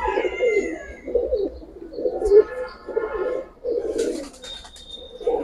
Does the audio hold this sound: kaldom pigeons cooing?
yes